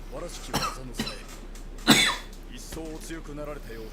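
A man coughs in short harsh bursts, one sharp and loud near the middle, with throat clearing and speech around them.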